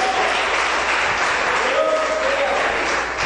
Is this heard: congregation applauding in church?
yes